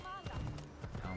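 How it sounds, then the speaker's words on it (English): Donkey hooves clip-clop steadily in Assassin's Creed Odyssey as the animal wanders into a town, a rapid patter of hoof strikes mixed with game ambience and faint tonal sounds. "Donkey just roaming into town."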